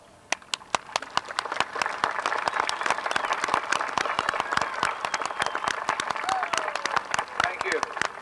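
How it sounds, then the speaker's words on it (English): A graduation audience stands and applauds, giving steady, dense clapping that holds at full strength throughout with sharp individual claps standing out near the recorder. "Would you stand, please, for a round of applause?"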